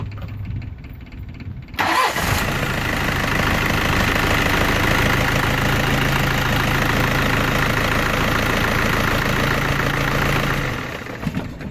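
A T4000 engine cranks and catches after a short quiet lead-in, then settles into a loud, steady idle with a rhythmic knock for about ten seconds before cutting off.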